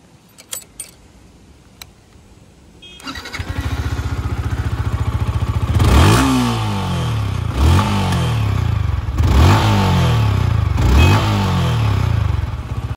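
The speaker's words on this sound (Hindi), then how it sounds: "और अभी हम लोग सुन लेते हैं R15M का एग्जॉस्ट नोट।" A Yamaha R15 V4 M motorcycle engine idles with a steady rumble, then is revved hard four times in regular bursts, each rise and fall loud and close.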